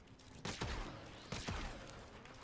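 Ferrox heavy-caliber weapon shots in the video game Warframe: two sharp, booming blasts about a second apart, each with a low thump and a decaying tail over a steady game background.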